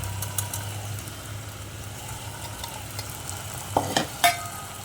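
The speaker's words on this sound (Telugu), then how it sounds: "ఇప్పుడు మంచి బాగా కలుపుకోవాలి. ఆ మసాలా అంతా ఆలుగడ్డకు పట్టాలి." Mashed boiled potato being stirred into frying masala in a pan for a restaurant-style aloo kurma, giving a steady soft sizzle with a low hum underneath and a few sharp scraping stirs near the end.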